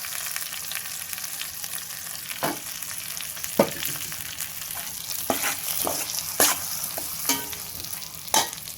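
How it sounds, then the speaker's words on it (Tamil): Tomato paste sautéing in a pan for tomato sambar, with a steady loud sizzle and occasional sharp scrapes and knocks of a stirring spoon against the pan. "இது நல்லா வதங்கட்டும்"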